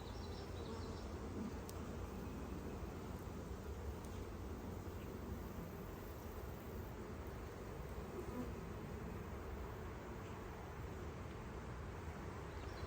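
Honeybees buzz steadily and densely around an open hive during a beekeeping inspection, a continuous close swarm drone with no talk.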